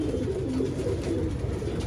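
Pigeons kept by a champion fancier in Jamshedpur, Jharkhand, give low, soft, continuous cooing close by, with overlapping throaty murmurs.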